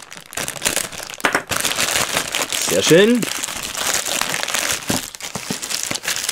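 Plastic crinkles and rustles up close as a bag is cut open, with crackling snips and a person talking briefly.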